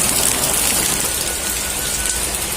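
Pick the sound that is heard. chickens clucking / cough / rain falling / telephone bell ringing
rain falling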